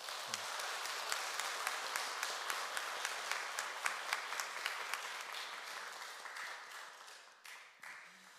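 Applause fills a Won Buddhist church hall, a congregation clapping steadily and densely for about eight seconds. A few louder claps stand out, and it thins toward the end with no talk over it.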